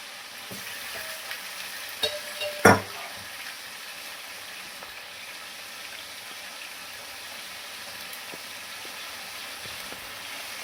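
Vegetables such as eggplant and gourd stems fry and get stirred in a pan in a home kitchen, giving a steady low sizzle throughout with a couple of sharp utensil scrapes and clinks near the start.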